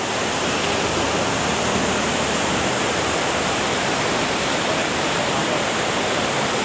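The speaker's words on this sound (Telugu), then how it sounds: "ఇది చయాపారా వాటర్ ఫాల్." Cheyapara waterfall near Munnar in Kerala, beside the Kochi road, roars as a steady, loud, dense rush of falling water, continuous and close with no break, and no voices are heard.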